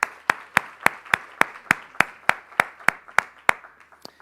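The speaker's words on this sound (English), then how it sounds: "Let's give them a big round of applause." Applause at a leadership and ethics summit comes through as a steady run of sharp, evenly spaced claps, about three or four per second. The claps are close and clear, with no voices.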